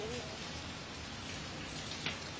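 Rain falls steadily on an outdoor street, a continuous soft hiss of drops across the whole clip with one brief brighter patter near the end.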